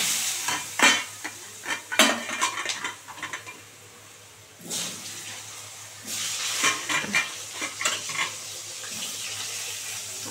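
Potatoes go into hot oil spiced with cinnamon, bay leaf and dried chilli, giving a soft, steady sizzle broken by repeated scraping and stirring clatters from a spoon, with a brief lull midway before the frying picks up again.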